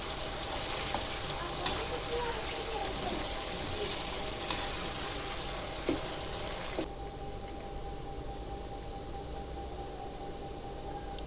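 Potato fries frying in hot oil over a low-to-high flame, a dense continuous sizzle with occasional small pops and crackles, fairly close, quieting somewhat in the last few seconds; no talking.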